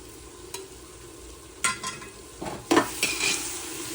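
Chicken for a Maharashtrian-style dum biryani is stirred with black masala, red chilli powder and biryani masala in a cooker, with several scraping spoon strokes over a faint sizzle, close by.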